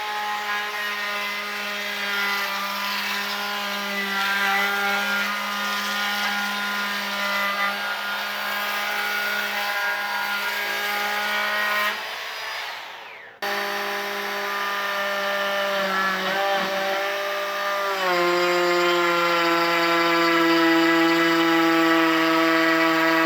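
A Bosch 12V cordless brushless trim router cuts wood with a loud, steady high-pitched whine and a tonal hum. The sound cuts out briefly midway, then resumes with a slight change in pitch, close and without talk.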